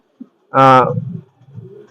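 A single close, loud coo from a Pakistani pigeon, throaty and resonant, followed by quieter murmuring sounds.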